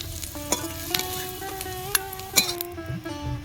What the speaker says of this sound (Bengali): রসুন আর পেঁয়াজ আমি বেশি ভাজবো না ভাব ভেজে নিয়েছি এবার তুলে নেব